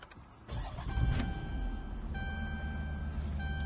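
A Chrysler 300 SRT8 V8 starting up, a short starter whir followed by the engine catching into a rising rumble that settles into a steady idle with a faint electronic tone over it.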